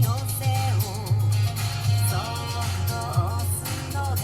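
An ATOTO CS-101SW 10-inch subwoofer installed in an FK7 car pumps heavy, steady bass under music, with a thick low-end drone and rhythmic pulses running throughout.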